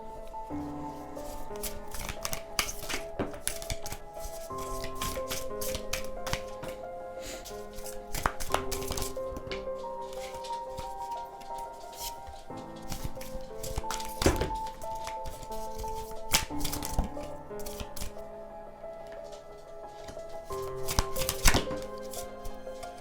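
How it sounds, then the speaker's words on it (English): Repeated crisp riffling and slapping of tarot cards, bursts of shuffling rising and falling over a low background hum, close and fairly steady. "let's just go ahead and start shuffling the cards"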